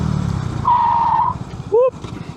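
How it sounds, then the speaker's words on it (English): A Honda Grom motorcycle skids, giving a short tire squeal about a second long, followed by a brief rising chirp over engine noise. Someone talks at the start. "See if we can get a good skid here."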